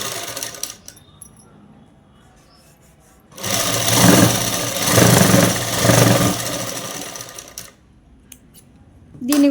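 A sewing machine runs in one steady burst of rapid stitching for about four seconds, stitching a design onto a ready-made blouse (jacket). Quiet handling comes before and after the burst.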